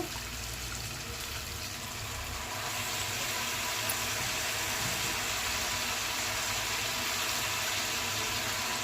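Mint leaves rinsed in water for a mint chutney, giving a steady close trickle and splash of running water that continues with no pauses and no speech.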